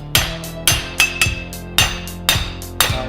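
A blacksmith hammers a twist in hot steel while forging tongs, a steady series of about eight loud, close, ringing metallic strikes on the anvil, each followed by a brief bright decay, with light rebound taps between blows.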